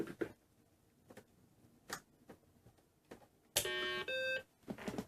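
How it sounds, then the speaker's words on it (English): A few faint clicks and taps, then two clear electronic startup beeps in quick succession from a BBC Micro home computer, the second higher and shorter, close by. "it's got the nice 2 reassuring beeps"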